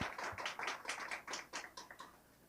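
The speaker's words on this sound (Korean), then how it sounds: "발표해 주신 김소영 이사장님께 다시 한번 박수 부탁드리겠습니다." An audience at a social-economy forum claps after a presentation, a short burst of scattered hand claps, fairly faint and distant, trailing off toward the end.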